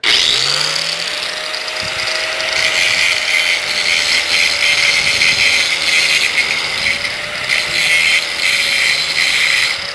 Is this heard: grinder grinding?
yes